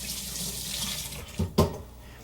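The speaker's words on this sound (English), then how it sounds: "So I'm going to rinse my hands" Tap water runs steadily from a kitchen faucet as hands are rinsed under it, a close, even hiss broken by two brief splashy thumps near the end.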